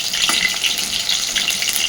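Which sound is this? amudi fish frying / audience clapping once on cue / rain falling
amudi fish frying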